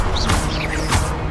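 Incendio fire spell cast in the Hogwarts Legacy video game: a loud whooshing burst with two bright crackling flares and a sharp crash-like impact, close and up front.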